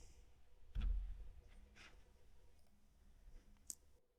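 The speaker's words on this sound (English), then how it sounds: "And click on this link." Computer mouse clicking at a desk, a single sharp click followed by a few fainter clicks and taps, close and quiet with no talk.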